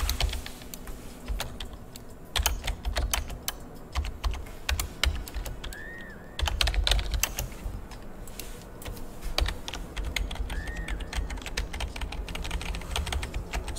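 Fast typing on a new computer keyboard during a web development session, dense bursts of close, crisp key clicks with short pauses and a few louder thumps, no voices.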